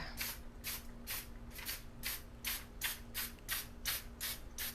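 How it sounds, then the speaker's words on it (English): A series of short spray bursts from an aerosol can of cooking spray onto cupcake wrappers, about a dozen quick hisses in a steady rhythm, close and fairly quiet. "I'm going to just spray these a little bit so they don't stick."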